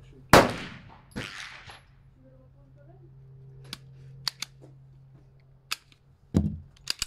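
Pistol shots ring out at a shooting range from a gun loaded with Kairos cartridges, a sharp close crack followed by a second shot, then scattered fainter distant reports from neighboring lanes, with brief talk.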